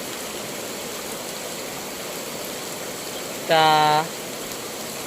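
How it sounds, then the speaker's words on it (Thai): Steady rain falls outdoors on a cool day with a yellowish sky over rice fields and grazing cattle, a continuous even hiss throughout, briefly interrupted by a short spoken word near the end. "อากาศรู้สึกว่าเย็นดีพี่น้อยมีฝนตกลงมาพี่น้อย"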